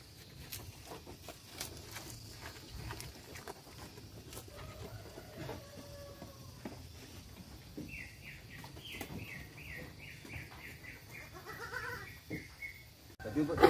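Etawa crossbreed (PE) goats bleat in quick wavering cries toward the end, moderately loud, while someone talks over a busy farmyard background.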